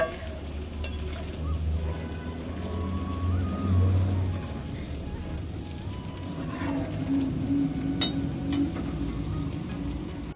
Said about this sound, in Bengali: আর এদিকে পেঁয়াজকলিটাও আমি ভাজা করছি একদিকে